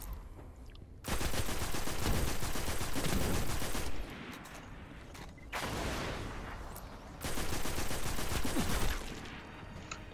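Rapid automatic gunfire in the shooter game Destiny comes in three loud sustained bursts, each lasting a couple of seconds, with brief quieter gaps between them and no talking.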